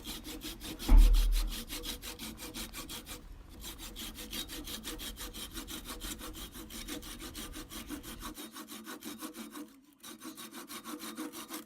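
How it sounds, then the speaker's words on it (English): Old-fashioned parting tool cutting into a wooden pen blank spinning on a lathe, a continuous close scraping rasp with fast regular ridges, one sharp knock early and brief dips in the cutting. "Old-fashioned parting tool."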